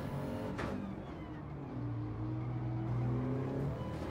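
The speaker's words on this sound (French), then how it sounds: "Trackmania, c'est un jeu de voiture sans être un jeu de bagnole" Trackmania video game cars produce a continuous engine hum with a brief whooshing pass early on, then a sustained drone that rises in pitch near the end. No one speaks.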